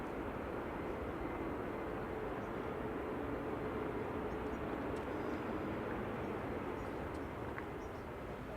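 A Ryanair airliner arriving from Oslo touches down on runway 05 right at Manchester Airport, a faint, distant, steady broadband roar that holds evenly throughout with no voices.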